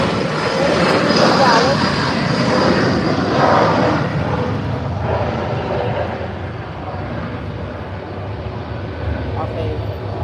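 A Falcon business jet heard at San Juan airport, its broad engine roar loud and sustained throughout, slowly easing in level, with people talking over it.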